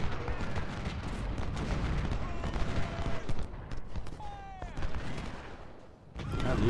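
Continuous crackling volleys of massed musket and cannon fire on a Civil War battlefield in Ultimate General: Civil War, a dense rumbling fusillade filling the whole stretch with brief whistling tones over the din.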